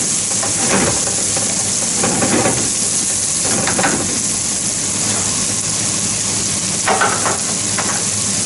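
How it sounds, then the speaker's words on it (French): Onions and carrots browning in a hot pan for a roast jus give a steady, loud sizzle close up, with a few stirring scrapes rising briefly above the frying hiss and no talking. "je vais fortement colorer mes oignons"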